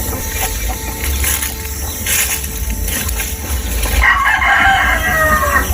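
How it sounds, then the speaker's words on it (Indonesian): Filipino chickens on a rural farm, a rooster crowing loudly and close while hens cluck around it, with insect buzz in the background. "Ini ayam sebagian besar ayam Filipina"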